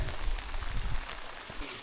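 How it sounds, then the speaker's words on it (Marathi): Light monsoon drizzle patters steadily on surfaces in a Konkan village, a soft continuous hiss with a few heavier bursts of drops, no voices. "पाऊस चांगला पडतो एकदम, रिमझिम रिमझिम रिमझिम"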